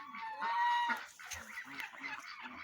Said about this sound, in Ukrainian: Ці гусочки, качечки, все з ними добре, всі в повному складі.